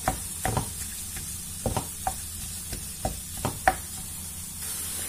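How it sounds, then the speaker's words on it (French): Ground meat cooking in a pan for stuffed mini batbouts, a soft steady sizzle broken by repeated scraping and tapping strokes as a utensil crumbles it, close and fairly quiet, no voices. "on va rajouter notre viande. Et on va essayer de l'émietter. Et la laisser cuire"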